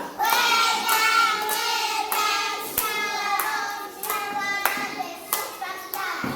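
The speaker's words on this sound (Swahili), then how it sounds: "Haya, tumpigie makofi." A group claps for a child who found the Book of John during a Bible game, crisp close handclaps in a quick rhythmic pattern with short pauses, steady and lively throughout.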